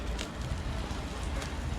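Meatballs sizzle over glowing charcoal on a smokeless balcony grill, a steady close crackle and hiss running evenly throughout with no talk.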